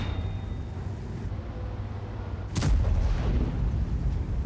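Maus tank cannon firing in World of Tanks, one sharp loud blast partway through over steady engine rumble, followed by a heavier low roar.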